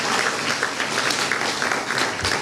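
Steady applause from an audience at a university communications school graduation reception, a dense, continuous patter of many hands clapping at close range with no voices over it.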